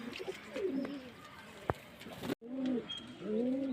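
Pigeons at a pigeon seller's stall in Beldanga coo repeatedly, several soft, low rolling calls overlapping, with a sharp click midway and a brief dropout before the cooing resumes.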